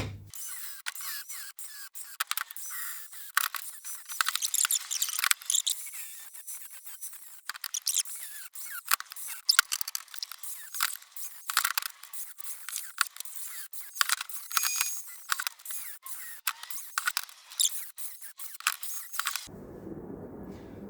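Material being cut during a metal fabrication job, a long run of quiet, irregular crunching snips and clicks, close and sparse, stopping abruptly near the end. No one speaks.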